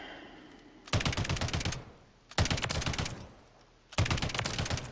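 A light machine gun fires at a shooting range in a video game, in three sustained full-auto bursts of rapid, close, loud shots, each lasting over a second and separated by brief pauses.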